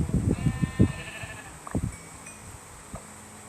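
Sheep in the game Minecraft bleat several times in quick succession, close and fairly loud at first, then a few fainter calls follow amid light background game sounds.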